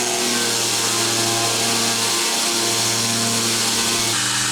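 A homemade 2x72 belt sander grinder runs at high speed, giving a loud steady motor whine and belt rush with a slight dip in pitch midway.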